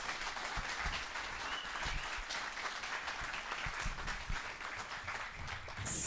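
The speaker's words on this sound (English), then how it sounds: "So let's give him an extra round of applause." An indoor audience at an event in Edmonton applauds steadily for about six seconds, with dense, even clapping that swells briefly near the end.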